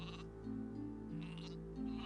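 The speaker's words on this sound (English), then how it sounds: "I guard the sheep" Sheep bleat in a Gothic 2 medieval fantasy game world, a few close, wavering bleats repeating over a steady low ambient drone with no talking.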